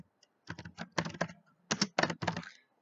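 Keys clack on a computer keyboard in several quick clusters of close, crisp taps, with short pauses between bursts and silence otherwise.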